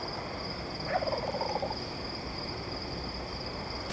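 A wild turkey gobbles once in the distance, a faint, brief rattling burst over a steady outdoor background hiss and insect drone.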